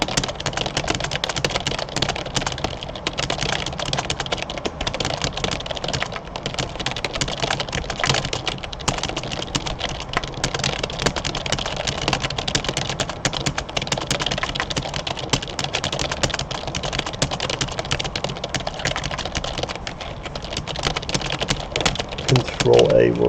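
Fast, dense typing on a computer keyboard during typing-race practice, a steady unbroken clatter of keystrokes running close and loud throughout with no clear pauses.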